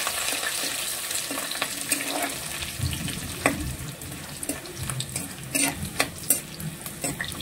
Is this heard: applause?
no